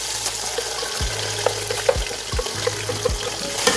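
Onions browning in a pan for a Pakistani kadhi pakora, a soft steady sizzle close by with a low hum underneath and a few clicks and scrapes.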